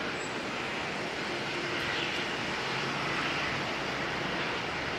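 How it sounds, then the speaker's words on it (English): A Jetstar airliner arriving at Auckland Airport from Christchurch produces a broad, steady roar of jet engines, loud and sustained throughout with no voices. "Jetstar 234 coming in next from Christchurch."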